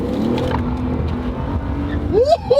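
A BMW E46 with a new engine and remap revs hard and accelerates away outdoors, a loud engine note holding steady, then rising in pitch with quick gear changes near the end.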